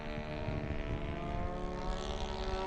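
A Saito-style FS90 four-stroke glow engine on a Hanger 9 Harvard model plane runs steadily at a constant throttle, a close, even buzzing drone with strong harmonic tones and no talking.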